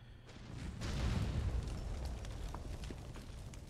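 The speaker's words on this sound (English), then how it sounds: "Okay, I'm bombing this." Bombs dropped on small enemy bases during a video game raid explode in a deep, rumbling boom that swells after a moment, then decays over a few seconds, with no talking.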